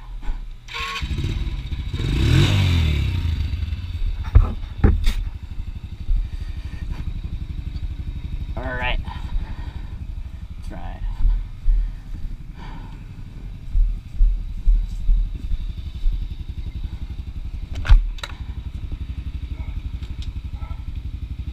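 A small ATV engine started cold by pull cord runs unevenly, its rough motor drone steady and close with a few sharp clanks and revs, a voice speaking now and then over it.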